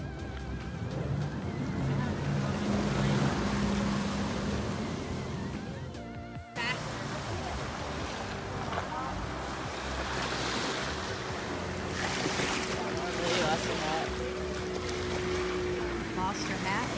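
Jet skis ride on the open ocean off Disney's Castaway Cay, their engines a steady loud roar blended with rushing wind and splashing water, close by throughout with one brief dip midway.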